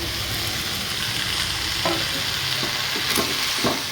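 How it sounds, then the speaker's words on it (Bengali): Mixed vegetables with tomato stir-frying in a pan for a vegetable soup, a loud steady sizzle broken by scraping and stirring knocks. "তো সবজিটাকে আমি ভালোভাবে নাড়িয়ে চড়িয়ে একটু ভাজা ভাজা করে নেব"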